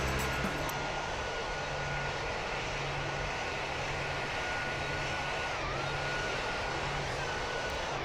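Jet engines of a Ryanair airliner roar in a steady, loud, continuous rumble with a high whine after landing at Manchester Airport, heard from inside the cabin.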